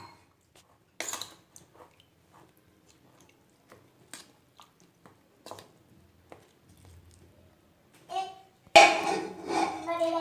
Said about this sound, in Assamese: এতিয়া মই এইখিনি পানীৰ সৈতে মিক্স কৰি ল'ম।